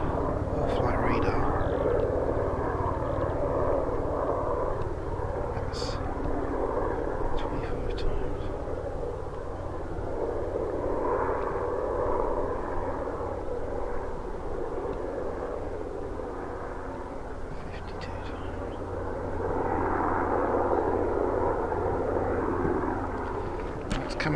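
A Sikorsky S-92 helicopter on a Turkish government test flight passes over fenland, its rotor and engine drone steady and moderately distant, swelling and easing as it moves, with someone talking over it.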